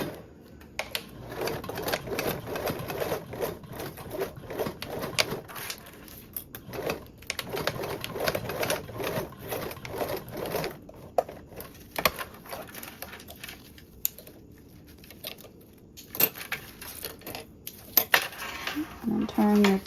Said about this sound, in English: I have a nylon one, so I can just sew right on over.